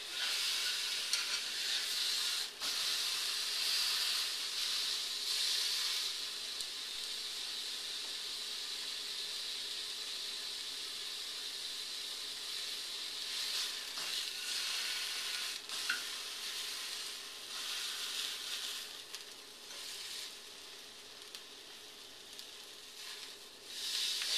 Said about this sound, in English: We're not trying to cook the steak here, we're just trying to sear the outside